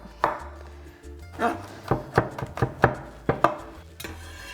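A knife chops garlic and herbs finely on a cutting board, giving a quick irregular series of crisp taps close by, with a faint voice in the background.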